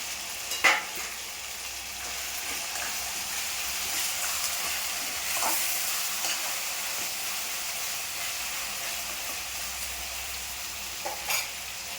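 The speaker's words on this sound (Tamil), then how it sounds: "இஞ்சி பூண்டு பேஸ்ட்டு சேர்த்துக்கலாம்." Ginger garlic paste frying with softened onions in a pan for tomato kurma, a steady low sizzle and hiss running throughout with a few faint clinks of a stirring spoon.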